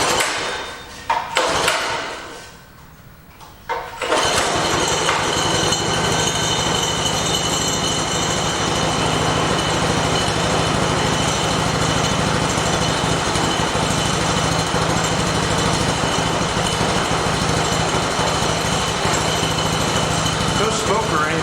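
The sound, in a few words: mini bike engine starting and running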